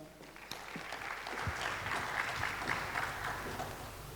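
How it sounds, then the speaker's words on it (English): A crowd at a regional forum in Bangalore applauds a musical act of a singer with piano accompaniment, producing a sustained, even wash of clapping that swells slightly and holds for several seconds. "Please welcome them with a round of applause."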